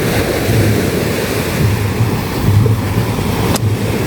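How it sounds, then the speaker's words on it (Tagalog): Ocean waves crashing on the beach at Station 3 on Boracay, a continuous loud surf wash with wind buffeting the microphone, rolling in and out without any voices. "Ibang level, oh. Kasa ng alon, oh."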